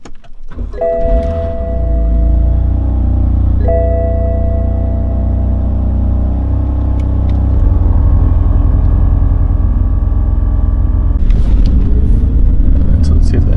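A BMW F80 M3 starts up and settles into a steady, loud idle rumble close by, with two short electronic warning chimes near the start and a busier burst of noise toward the end.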